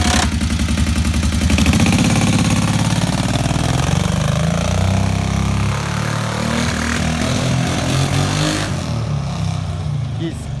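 A Kawasaki KVF 650 ATV engine runs loudly and close by, a steady rumbling idle that shifts in tone partway through, with a slight unexplained stumble in its running.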